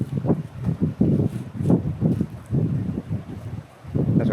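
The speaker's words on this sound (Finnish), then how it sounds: "tuulee kyllä kovin" Strong wind blowing at an exposed seaside camping spot at Porkkalanniemi, loud irregular gusts buffeting the microphone in rumbling bursts throughout, with no other sounds standing out.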